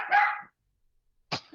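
A dog gives two short barks, the first a fuller yap and the second a sharp clipped bark after a silent gap, close and isolated against quiet.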